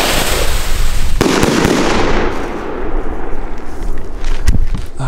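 Shots from a 30 mm, three-shot firework battery burst loudly one after another, close by, each with a sharp crackling blast that trails off into a hissing roar.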